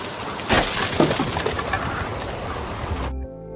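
Car window glass smashed in a single sharp, loud burst, followed by about two and a half seconds of crackling and tinkling fragments before an abrupt cut to near silence.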